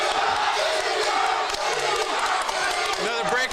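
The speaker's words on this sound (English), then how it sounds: "The crowd is loving it." Boxing fight crowd cheering and shouting in a dense, continuous roar around the ring, loud and sustained throughout with scattered yells rising out of the noise.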